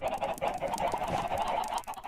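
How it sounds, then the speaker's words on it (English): Chickens clucking in Minecraft, a steady string of busy, overlapping clucks and squawks heard close and fairly loud, with no one talking over them. "I need some chickens."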